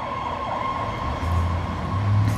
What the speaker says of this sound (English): These stupid sirens are so damn loud around here.